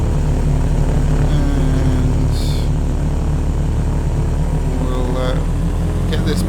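A simulated aircraft engine roars steadily during takeoff in the Prepar3d 2.5 flight simulator game, a loud continuous drone with a voice talking over it.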